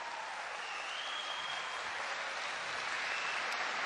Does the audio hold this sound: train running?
no